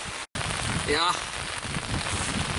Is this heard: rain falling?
yes